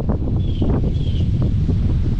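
Strong, forceful wind in the aftermath of Hurricane Helene, blowing steadily and roaring into the microphone with no speech over it.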